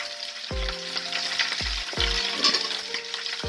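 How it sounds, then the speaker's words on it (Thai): Garlic, shiitake mushrooms and coriander root roast in a pan for a five-spice pork leg braise, giving a strong continuous sizzle with three low knocks of a utensil against the pan, close and loud. "กระเทียม เห็ดหอมรากผักชีเนาะ ก็จะคั่วให้หอมก่อน"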